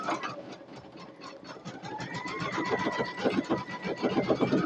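A Brother VE2200 embroidery machine stitches a single-needle heirloom blanket, running with a rapid, even mechanical chatter that is fairly close and continuous.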